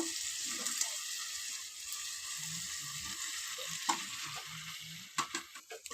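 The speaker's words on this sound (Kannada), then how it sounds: "ರೈಸ್ ಹಾಕ್ಕೊಂಡು ಚೆನ್ನಾಗಿ ಮಿಕ್ಸ್ ಮಾಡ್ಕೊಳ್ಳೋಣ" Rice being stirred into a frying chitranna masala in a home kitchen pan, giving a steady soft sizzle with scraping and stirring clinks near the end.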